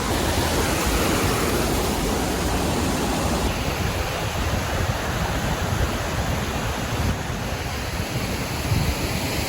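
Steady, roaring rush of falling water, broad and unbroken throughout, like many waterfalls in Scotland heard from nearby with some wind.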